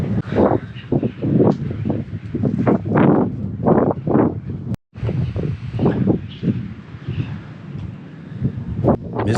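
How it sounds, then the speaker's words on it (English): Strong, cold gusting wind at Mizdakhan Necropolis in Karakalpakstan buffets the microphone in loud, uneven bursts, with a brief dropout partway through before the roaring continues. "But it's extremely windy."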